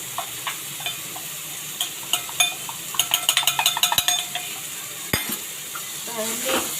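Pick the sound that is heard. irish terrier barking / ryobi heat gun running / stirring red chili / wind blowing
stirring red chili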